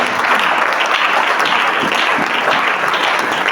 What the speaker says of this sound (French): Je peux acclamer très fort au Seigneur.